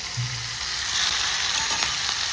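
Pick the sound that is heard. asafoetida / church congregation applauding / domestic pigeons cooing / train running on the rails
asafoetida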